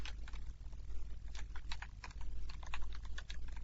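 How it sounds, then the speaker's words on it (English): Rapid typing on a computer keyboard, with a quick, irregular patter of close, soft key clicks that runs steadily and is heard alone. "If you just start typing"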